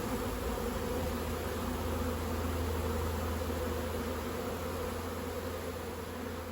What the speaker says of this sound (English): the bees decided to move next door to a queenless hive instead of going to a tree